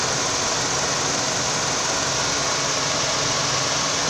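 A 2010 Toyota Camry engine idles with a rough shake, giving a steady, close mechanical hum and whir with faint vibration and no breaks or voices.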